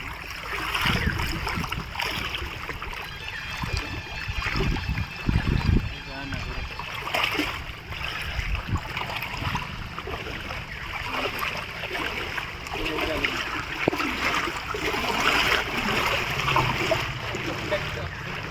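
Steady rushing floodwater from the Chitrotpala River flows throughout, entering a temple, with voices talking over it and occasional bumps and rustles nearby.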